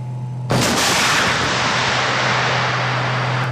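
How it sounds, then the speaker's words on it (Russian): A Terminator tank support vehicle fires an Ataka-T missile: a single powerful blast erupts suddenly, followed by a long, loud roaring rush that sustains without fading, close and overwhelming. "боевая машина поддержки танков «Терминатор» готова совершить свой первый выстрел"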